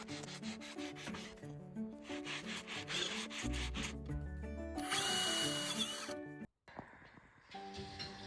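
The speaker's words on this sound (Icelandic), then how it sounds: "Og svo vorum við bara að saga og pússa, græja alls konar." Wood parts for a homemade Edison-style phonograph are sanded by hand, giving a rough rubbing scrape that comes and goes under prominent background music.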